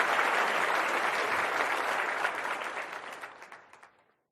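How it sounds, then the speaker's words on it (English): A crowd claps loudly and steadily, then the applause gradually thins out and fades to silence. "So you get double the applause, Johnny."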